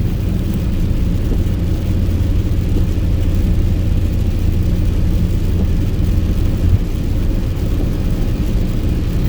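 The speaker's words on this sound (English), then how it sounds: "You hear the tires." Car tires hissing and rumbling steadily across a wet road while driving in rain, a continuous close road and engine drone with no speech.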